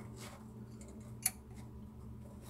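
A single sharp snip as a plastic lock nut is cut beneath a kitchen sink, one brief click-like crack over a low steady background hum.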